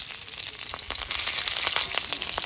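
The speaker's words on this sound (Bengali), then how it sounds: "আলুটা আগে ভেজে নেব স্বাদ মতো নুন এক চিমটি হলুদ গুঁড়ো আলুটা ভালোভাবে ভেজে নেবো" Potato pieces frying in hot oil in a kadai with salt and turmeric, a steady bright sizzle with crackling pops throughout, close and continuous.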